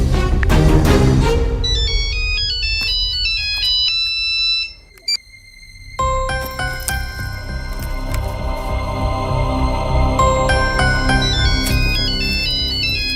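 A mobile phone ringtone plays loudly and continuously as a bright electronic melody with repeating notes, breaking off briefly midway before resuming, with no talking over it.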